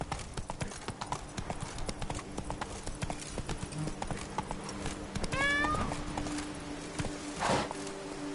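Roach, Geralt's horse in The Witcher 3, clip-clops at a steady walking pace throughout, with a brief whinny partway through and a soft thud near the end.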